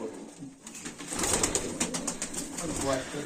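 Soft cooing of a Baku fighting pigeon close by, with rustling and faint movement around it.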